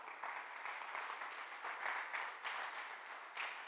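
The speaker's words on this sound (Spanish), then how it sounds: "Dele un aplauso al Señor" A church congregation at a Sunday service claps together in a sustained round of applause, moderately loud and even, with slight swells in rhythm.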